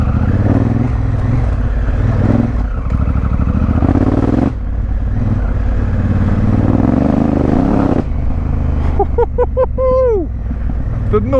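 A Honda Africa Twin motorcycle ridden off road, its engine droning steadily and loudly for several seconds with throttle changes and a spinning rear wheel, before a rising, revving burst near the end.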